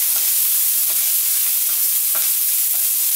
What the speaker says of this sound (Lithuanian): Taip, apkepam ant didelės ugnies, galima greitai.